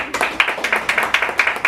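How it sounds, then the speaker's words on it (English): Rhythmic group clapping for Mommy Danu at an evening community gathering on Black health, with about ten regular, evenly spaced claps in unison, close and clear with no talk. "Give Mommy Danu a round of applause"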